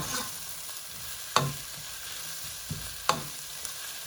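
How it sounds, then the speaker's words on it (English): Onions cooking in a pan give a steady close sizzle, broken by a couple of sharp scraping stirs, with no voices. "this has been a few minutes that the onions have been cooking"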